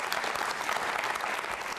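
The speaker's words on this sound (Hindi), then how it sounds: "उनके सम्मान में बजाइए तालियां" An audience claps in tribute to the film star Dev Anand at a Jain Social Group quiz show, a dense, sustained burst of applause heard alone and fairly distant.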